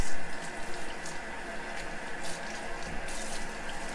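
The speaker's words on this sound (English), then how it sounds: "Just go ahead and give it a quick rinse in the sink." Water from a kitchen sink tap rinses a cleaning rag, a steady hissing stream that sounds close and fairly even.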